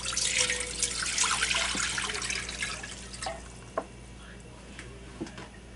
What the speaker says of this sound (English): right now what we're going to start doing is adding some water to our pot.